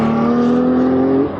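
A loud car exhaust holds a sustained, steady revving drone, close and strong, then drops off abruptly at the end.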